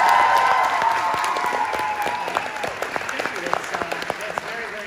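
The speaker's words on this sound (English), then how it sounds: "how about we give a round of applause for Nurse Sam?" Live tour audience in Washington D.C. applauding and cheering for a co-host introduced on stage, the dense clapping loud at first then thinning out, with scattered whoops and a few voices over it.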